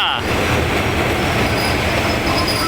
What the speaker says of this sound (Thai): ขบวนรถธรรมดาที่ 252 ต้นทางสถานีประจวบคีรีขันธ์ปลายทางสถานีธนบุรีนำโดยดีเซล 4505 ครับ